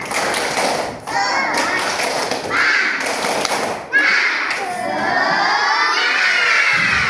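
Schoolchildren in an Indonesian classroom, standing, loudly perform a clapping chant together, shouting voices mixed with rhythmic claps in bursts, with brief pauses between phrases.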